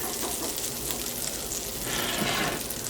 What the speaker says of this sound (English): Melt your butter.